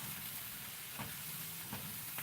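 Reindeer sausages and onions frying in a skillet, giving a soft, steady sizzle and hiss with a couple of brief stirring scrapes, fairly quiet and close, with no talking.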